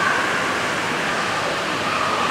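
Rushing water fills a water park with a steady, loud, broadband wash that holds even for the whole stretch, with no voices on top.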